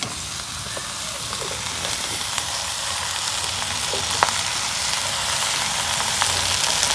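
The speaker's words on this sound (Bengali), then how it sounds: "মশলা কষানি হয়ে গেছে, এখন আমি শাক আর আলু ধুয়ে রাখছি দিয়ে দিই।" Washed greens and new potatoes hit a pan of cooked-down frying spices, raising a steady, close crackling sizzle that holds throughout with a few small pops and utensil clicks.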